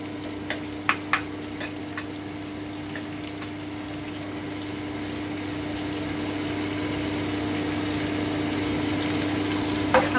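Sliced carrots sizzle steadily in a hot pan for egg fried rice, with a few sharp scrapes of stirring early on over a constant frying hiss.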